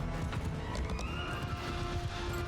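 Cavalry horses in a Mount & Blade II: Bannerlord battle gallop with dense, continuous hoofbeats and repeated neighs and whinnies, loud and close throughout with no voices.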